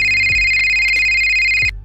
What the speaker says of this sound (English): So when a phone call from my best friend interrupted my train of thought